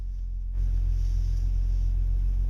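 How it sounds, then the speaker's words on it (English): A 2002 Audi S4 B5 catches and settles into a steady low idle rumble, close and continuous after a brief quiet start. "Alright, so I just started up the car, first time starting it"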